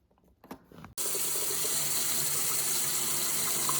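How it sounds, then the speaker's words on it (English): Tap water gushes steadily into the tank of an Everlasting Comfort ultrasonic air humidifier, starting abruptly after a few faint handling knocks and then running loud and constant, close by, with no talking. "we're going to fill it with water now"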